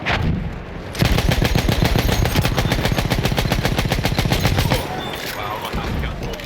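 Rapid automatic gunfire from a weapon in the video game Battlefield 1, a loud, steady burst of closely spaced shots lasting several seconds, then stopping abruptly as the scene's background noise continues.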